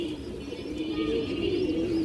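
A pigeon coos softly and steadily nearby, a low murmuring call under faint background chirps.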